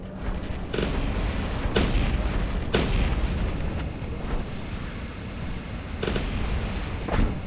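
Wasp medium corrosion weapons firing in War Robots, a dense rumbling barrage of booming shots with several sharper blasts standing out, heard loud and continuous throughout.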